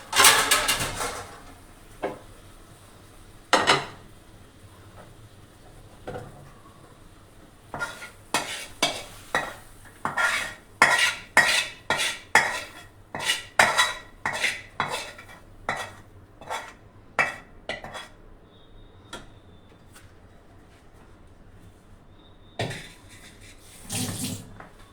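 Thick orange barfi mixture is scraped and tipped from a pan into a dish, with a long run of rhythmic spoon-on-metal scrapes and knocks, close and fairly loud, with quieter pauses between bursts.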